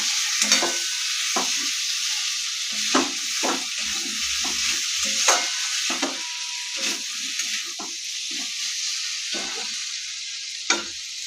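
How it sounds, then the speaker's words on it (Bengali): A spoon stirring paneer dalna curry in a hot pan: steady frying sizzle underneath, with a dozen or so sharp scrapes and taps of the utensil against the pan at irregular intervals. No talking. "এগুলো আরেকবার ভালো করে নাড়াচাড়া করে দেবো।"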